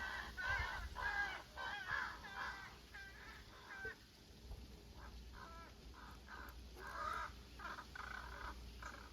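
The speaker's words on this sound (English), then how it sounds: "My friend the crow is really giving her this morning." A crow caws repeatedly in bursts of harsh calls on a quiet morning outside a shed in rural Nova Scotia, fairly distant and heard alone without talk.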